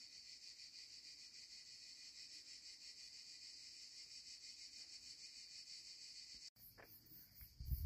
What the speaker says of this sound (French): au milieu des cigales